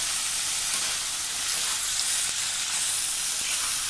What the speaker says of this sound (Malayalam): ഇഞ്ചിയൊന്ന് നന്നായിട്ട് വറുത്ത് കോരുന്നു എണ്ണയിൽ